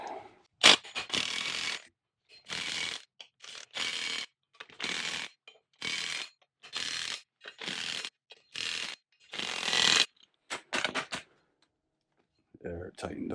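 A ratchet working on parts of a TTB Dana 44 axle during reassembly, heard as a long series of sharp close clicking bursts in a steady rhythm with brief pauses, ending in silence and a little faint noise.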